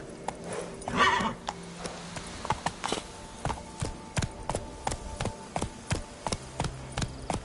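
Horse hooves clip-clopping in the Witcher 3 game, a steady galloping rhythm of sharp close hoof strikes, preceded by a brief snort or whinny near the start.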